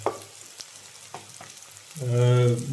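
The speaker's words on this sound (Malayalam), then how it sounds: "മാങ്ങയിട്ട് ഒന്ന് ഇളക്കിയ ശേഷം അതൊന്ന് അടച്ചു വയ്ക്കും" Mango pieces are stirred into a fish curry in a pan: light scrapes and clicks over a low simmering background, followed near the end by a loud, steady humming tone.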